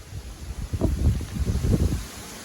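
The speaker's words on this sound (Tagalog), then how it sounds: "Lakas ang hangin." Strong gusts buffet the microphone in a vegetable garden in America, low, uneven rumbling bursts, with a faint constant hiss behind them and no voices.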